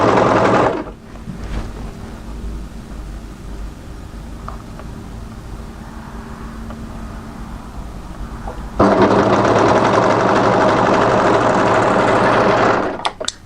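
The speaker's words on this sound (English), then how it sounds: "What we want to do is overlock so that the notch sits on top of the other godet seam" An overlocker sews a seam on a sleeveless cardigan, running loud and close with a continuous buzzing whir that steps up sharply in speed about two thirds through before stopping abruptly.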